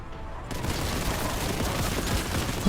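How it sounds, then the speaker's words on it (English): Sustained rapid gunfire in the shooter game Warhammer 40K: Boltgun, a dense unbroken barrage that starts abruptly and rolls on loudly without pause. "We're still shooting"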